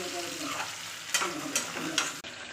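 Chili fries in a pan with a steady close sizzle, broken by three quick scraping stirs of a utensil against the pan before the sound cuts off abruptly.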